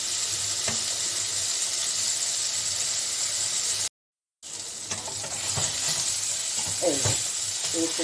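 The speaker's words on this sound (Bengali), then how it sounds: "একটু মাঝে মধ্যে বেগুনগুলোকে আমি একটু নাড়িয়ে দেবো" Neem begun bhaja in progress: eggplant slices frying in a pan, with a steady sizzle and occasional gentle stirring scrapes and squeaks, broken by a short silent gap midway.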